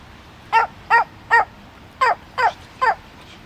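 A dog barking six short, sharp times in two quick groups, loud and near, with no voices around it.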